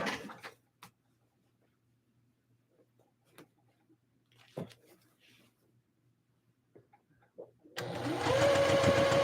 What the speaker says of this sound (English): And then I'm going to sew that channel down,